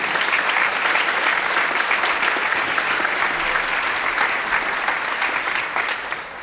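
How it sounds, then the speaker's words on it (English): Concert audience at a high school fall concert applauding the backstage and booth crew, a steady, dense wash of clapping from a large crowd that holds strong throughout and tapers slightly at the end. "Please give a round of applause to everyone backstage and up in the booth."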